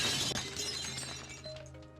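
Shatter effect from the card game Marvel's Midnight Suns, a bright glassy burst of breaking fragments at the start that rings and tinkles away over two seconds, alone and fairly close.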